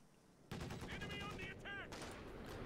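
A DShK heavy machine gun fires in a war strategy game, loud rapid bursts that begin abruptly, mixed with other battle noise and pitched whistling tones.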